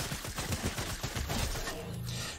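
Rapid bursts of gunfire from AI opponents in a Fortnite match, loud overlapping shots crackling in quick uneven volleys across the whole stretch with no talking.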